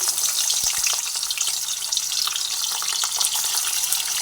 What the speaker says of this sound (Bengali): কড়ার মধ্যে তেল দিয়ে দিয়েছি তেল গরম হয়ে গেছে সেই সময় মাছগুলো তেলের মধ্যে দিয়ে দিয়ে এক এক করে ভেজে নেব